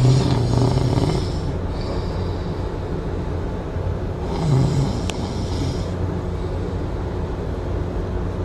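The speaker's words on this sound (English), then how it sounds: "This is what I have to deal with, snoring." A sleeping person snores in a steady loop of slow, rough breaths, close and fairly loud over low background rumble, with a longer snort-like swell partway through.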